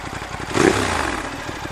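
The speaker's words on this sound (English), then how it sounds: "There is the exhaust I put on." Ducati Monster 1200 R motorcycle with a Termignoni exhaust and dB killers fitted, idling steadily close by with a low, even rumble and a slight swell partway through.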